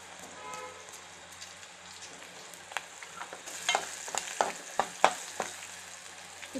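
Green chillies and spices such as pepper powder and asafoetida frying in a pan, a quiet sizzle broken by sharp pops and spatters that grow more frequent in the second half.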